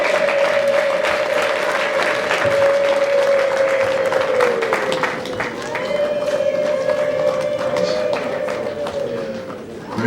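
Wedding guests clapping at a Rwandan wedding, a dense and sustained burst of applause from a crowd with rapid overlapping claps, loud and close, under a held vocal or musical tone.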